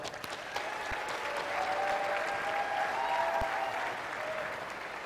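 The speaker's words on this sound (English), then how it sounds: "Let's give them a round of applause." An audience gives volunteers a round of applause at an opening-remarks session, a dense, even clatter of many hands at moderate distance, holding steady for the whole stretch.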